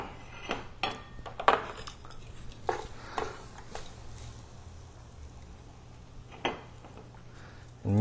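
Carbonara with peas and pancetta is plated with cutlery against dishes, producing scattered light clinks and scrapes at an irregular pace over a low steady hum, quiet and close.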